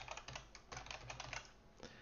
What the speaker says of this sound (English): Our stateful widget is going to be a little bit of typing here, so bear with me.